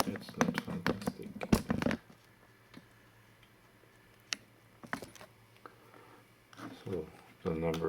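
Keys clack on the keyboard of a Teensy 4.0 mini computer station running an MSX2 emulator, in quick bursts of close, sharp taps separated by quiet pauses.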